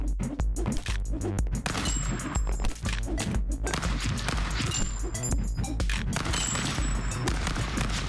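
Gunfire in the video game Stick Fight, a chaotic, dense barrage of rapid shots and crashes layered with music, loud and continuous, with players talking over it.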